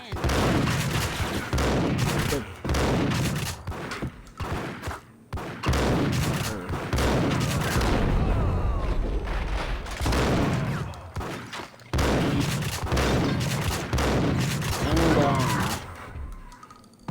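Rapid gunfire from a Max Payne shootout, heavy overlapping bursts of shots and thuds filling the scene, with brief lulls between volleys and game dialogue under the shooting.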